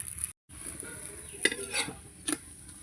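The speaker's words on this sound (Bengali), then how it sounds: "এইভাবেই লাল লাল করে মেথির পরোটা ভাজতে হবে" Methi paratha frying in a pan with a steady soft sizzle, broken by a brief silence and a few louder scrapes and clinks of a spatula against the pan.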